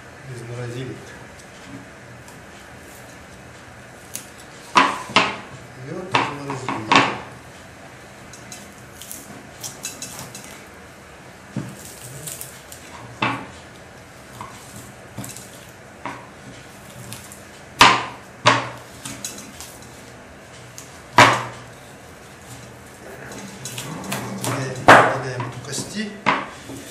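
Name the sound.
knife chopping frozen meat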